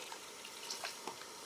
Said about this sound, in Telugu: ముక్క మునేటట్టు వాటర్ పోసుకుందాం